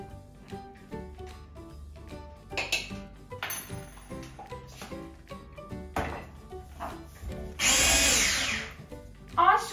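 Milk and baking soda batter being stirred in a bowl, with repeated clinks and scrapes of a utensil against the dish and a loud, sustained whirring burst near the end.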